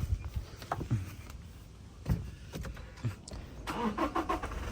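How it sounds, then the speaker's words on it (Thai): A 2019 Toyota Fortuner 2.4 engine cranks with a few clicks and turns over, then catches and begins running near the end. "เดี๋ยวมาสตาร์ทฟังเสียงเครื่องกันนะครับ"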